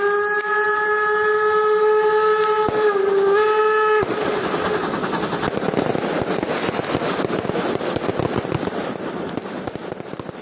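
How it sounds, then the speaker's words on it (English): A train's tonal whistle holds for several seconds, then the compressed-air brake hose between two cars bursts apart in a loud, sustained rushing hiss as the railroad cars roll on. "the exact moment when the compressed air hose between train cars is pulled apart"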